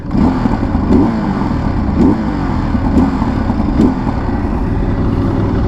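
A Ducati Desert X adventure motorcycle engine runs steadily on a countryside ride, with a few sharp pops and crackles breaking through the continuous low rumble, up close and loud.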